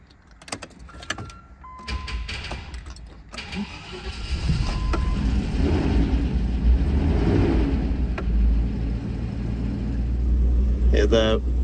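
A Land Rover Discovery with failing brakes cranks and starts, its engine settling into a steady low rumbling idle for several seconds, with clicks and mechanical noises beforehand and voices talking in the background.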